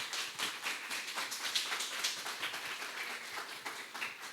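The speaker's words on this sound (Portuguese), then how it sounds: "Vamos dar uma salva de palmas mais uma vez" An indoor audience claps after a talk, a dense run of many hands applauding at moderate volume, steady throughout with no voices over it.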